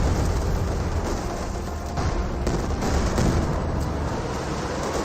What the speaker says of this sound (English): Close range Katyusha barrage gains some great hits there